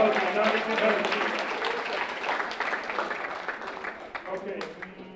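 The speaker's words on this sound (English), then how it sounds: "Everybody give Don a round of applause" An audience at a mentalist-magician's matinee show claps, a dense, fairly quiet round of applause that slowly thins out over a few seconds.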